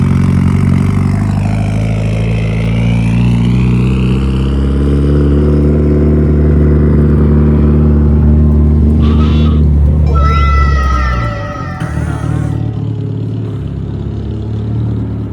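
Mitsubishi Evo engine at a Cars & Coffee meet in Murrieta, California, a loud, close, sustained roar that rises and settles across the first twelve seconds, then drops away to a quieter idle, with no talking.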